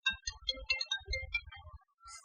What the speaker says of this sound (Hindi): फोन बज रहा है कब से तुम्हारा